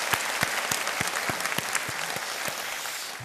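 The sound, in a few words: audience applause in church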